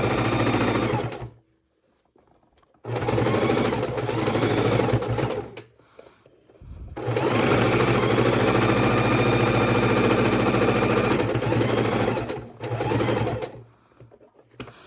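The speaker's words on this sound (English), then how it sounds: "and sew around our bowls" A sewing machine stitches around fabric bowls in loud, close bursts of rapid, steady whirring, separated by short pauses where the fabric is turned, with no talking.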